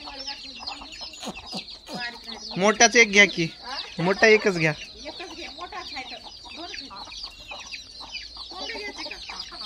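Village farm chickens cluck in short bursts, with a louder cluster of calls near the middle, while people nearby talk over and between them.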